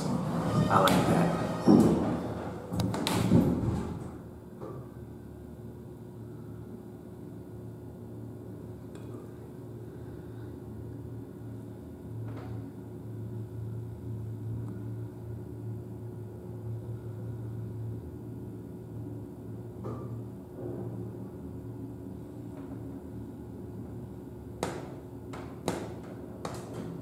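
A hydraulic glass elevator in a college music building closes its door and descends to the basement, with a few louder knocks and clatter at the start, then a low steady rumble and hum and occasional faint ticks.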